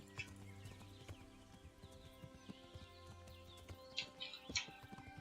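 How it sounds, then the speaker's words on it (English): Horse hooves clip-clop steadily in the Kingdom Come: Deliverance video game, a quiet rhythmic walking gait over a soft ambient game soundtrack, with a couple of brighter accents near the end. "summoning our horse, Horsey Boy, also known as Sleipnir"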